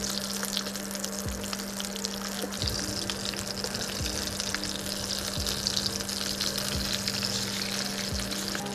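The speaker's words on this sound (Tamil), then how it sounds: "டீப் ஃப்ரை பண்ணி எடுப்போம்." Lollipop cutlets deep frying in hot oil to golden brown, giving a steady, dense sizzle and crackle throughout, with a low constant hum beneath and a few soft periodic thumps; no voices.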